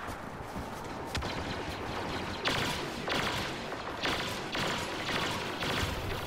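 Blaster fire fills a Star Wars Battlefront match in rapid bursts of shots, several crackling volleys that rise and fall over a constant busy battle din, with no talking.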